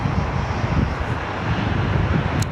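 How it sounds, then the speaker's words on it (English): Jet airliner powered by Rolls-Royce engines roars at an airport, a continuous broad, loud whooshing engine rumble with wind noise, heard alone without speech. "Love the sound of the Rolls-Royce engines."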